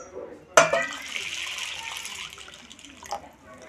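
Chana dal lentils are swished and rinsed in water in a vessel, starting with a sudden splash and continuing as a soft churning slosh, close by, with someone speaking quietly at times.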